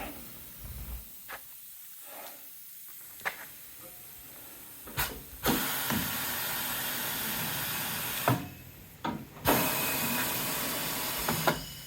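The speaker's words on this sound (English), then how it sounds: "You can also hear just a little bit of an air leak." A Hunter tire machine leaking air, a steady broadband hiss that starts faint and grows louder, interrupted by brief clunks and pauses, with a couple of sharp releases.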